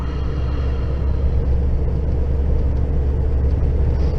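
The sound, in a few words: vehicle carting straw driving in top gear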